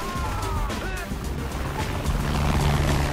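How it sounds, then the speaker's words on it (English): An attack helicopter in the video game Saints Row: The Third, heard as a steady, loud rotor-and-engine roar mixed with dense game noise. "Really? A fucking attack chopper?"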